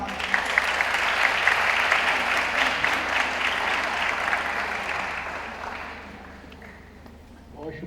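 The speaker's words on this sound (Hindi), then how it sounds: "आपकी तालियों में वसीम अब्बास।" Audience applause at an Urdu poetry recital (mushaira), a dense sustained clapping that holds steady for several seconds before thinning out and fading toward the end.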